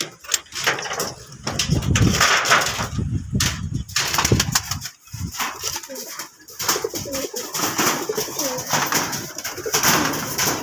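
Pigeons coo repeatedly in a home loft at midday, soft rolling calls close by with some fluttering and knocks around them, and no talk.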